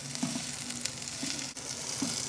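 Spareribs stir-fry in a wok, giving a steady close sizzle with a few short scrapes and toss sounds in a brief burst.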